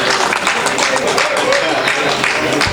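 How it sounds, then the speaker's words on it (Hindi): An audience at a mushaira poetry gathering applauds in a steady, dense wash of clapping that continues throughout the short clip. "इस्तकबाल कीजिए ज़ोरदार तालियों से"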